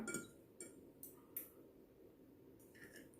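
A spoon clinking against a bowl while eggs are beaten for a cheese omelette: a few sharp, light clinks spaced irregularly over a quiet background, close and fairly faint.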